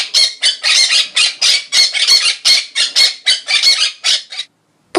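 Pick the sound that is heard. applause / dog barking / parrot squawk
parrot squawk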